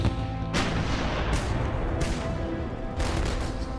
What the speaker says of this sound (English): US battleships start shelling the islands of Guadalcanal and neighboring Tulagi.